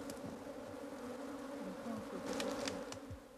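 A dense swarm of honey bees hums steadily around an opened hive colony, a continuous close buzz with individual insects passing nearby.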